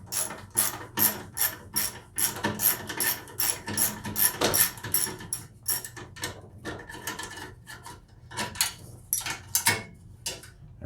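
A 1/4 inch ratchet wrench loosens a bolt on a snow blower with a long series of close, sharp ratcheting clicks in quick bursts and brief pauses.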